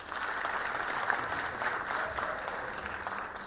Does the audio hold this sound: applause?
yes